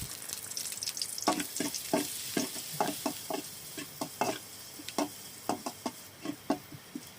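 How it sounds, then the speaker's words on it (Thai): Garlic stir-fried in a little oil in a wok, a steady close sizzle with a series of sharp scraping and tapping spatula strokes at an irregular rhythm, no voices. "ผัดไปเรื่อยๆพี่น้องให้กระเทียมเขาเหลืองหอม"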